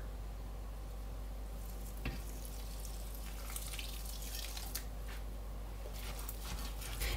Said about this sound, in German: Und darauf gebe ich nun 500 Milliliter sehr warmes Wasser.